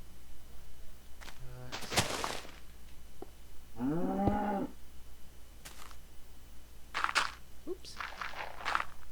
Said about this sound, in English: Cow doesn't sound happy, does he?